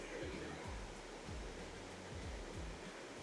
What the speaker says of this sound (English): Okay, waterfall 5, Drake Falls.